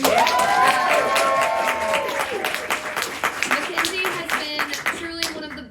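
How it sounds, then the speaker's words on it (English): Audience at a party membership meeting claps steadily for several seconds, a dense, loud burst of applause with voices and a few cheers mixed in that thins slightly toward the end. "Can we give one more big round of applause to Mackenzie, everyone?"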